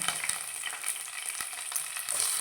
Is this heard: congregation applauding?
no